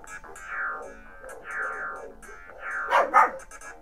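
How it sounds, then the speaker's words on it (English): Dogs in the video game Zero Tolerance barking in a few sharp, close bursts, the loudest pair near the end, over a quiet game backdrop. "And the dogs are going off."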